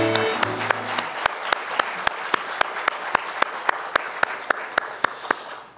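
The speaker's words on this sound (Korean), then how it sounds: "우리도 하나님 앞에 큰 영광의 박수 올려드리겠습니다" A church congregation at a New Year's Eve service claps in steady unison, crisp evenly spaced beats repeating about three times a second for several seconds, after a brief sustained tone at the start.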